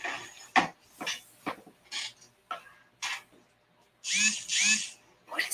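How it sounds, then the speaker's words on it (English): Inside a pub, a drill-like whirring comes in short repeated bursts of about half a second, separated by pauses, ending with two longer, louder bursts. "What is the drill sound?"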